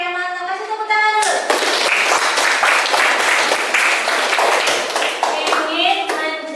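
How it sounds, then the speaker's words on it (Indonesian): A school class breaks into dense, loud clapping that lasts several seconds, with a voice talking briefly before it starts and again as it ends. "Kasih tepuk tangan dulu."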